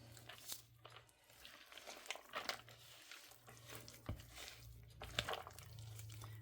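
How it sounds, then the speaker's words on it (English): A spoon stirring a soft cheese ball mixture with diced pimento in a bowl, faint irregular squishing and scraping with light clinks against the dish, quiet and close over a low hum. "Now, let's stir."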